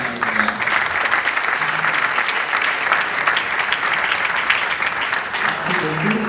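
Steady round of audience applause in a conference hall greeting the guests, dense continuous clapping throughout with brief voices underneath.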